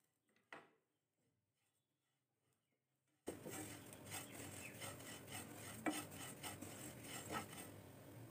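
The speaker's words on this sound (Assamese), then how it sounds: "তিলখিনি প্ৰায় ভজা হৈ গৈছে" White sesame seeds dry-roasting in a pan while being stirred: near silence broken by one brief scrape, then a continuous close rasping and scraping of seeds moved across the pan, with occasional sharper knocks.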